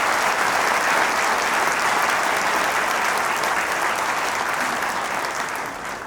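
Steady, dense audience applause at a meeting fills the whole stretch, loud and continuous, easing slightly near the end with no talk over it.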